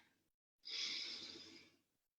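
One long, deep inhale during a yoga session, close and soft, rising quickly and tapering off over about a second and a half, with near silence before and after.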